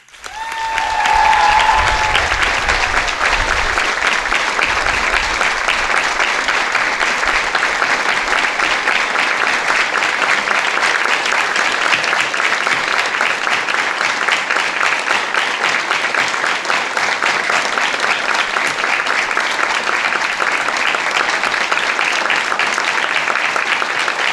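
Sustained, loud applause from a school graduation audience honoring two class teachers, steady dense clapping that starts abruptly and continues evenly throughout.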